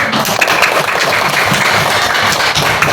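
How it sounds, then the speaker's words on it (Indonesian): A group of children in a classroom claps together in a dense, continuous burst of applause that holds steady for a few seconds. "Tepuk tangan dulu"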